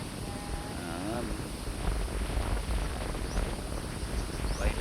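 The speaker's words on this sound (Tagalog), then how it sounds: "Lakas ng simoy ng hangin dito" Strong wind blowing at sea on a fishing boat, a rushing, buffeting roar against the microphone that swells over several seconds, with faint motor hum and a brief whistle-like tone near the start.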